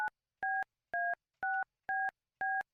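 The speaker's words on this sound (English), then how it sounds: "Now let's dial the phone" Telephone keypad dialing: six evenly spaced dual-tone beeps, each about a fifth of a second, with short silent gaps, clear and close with no talking.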